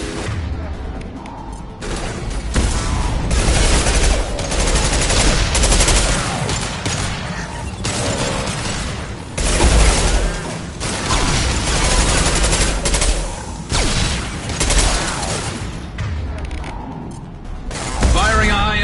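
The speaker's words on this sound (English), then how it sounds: "Firing a high-impact shot." Sustained gunfire in Mass Effect 2 on insanity difficulty, dense bursts of rapid shots and heavy impacts rolling almost continuously for nearly twenty seconds, loud and close with brief lulls.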